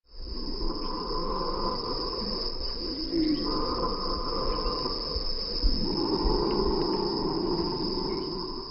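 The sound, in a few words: animal snoring, nature recording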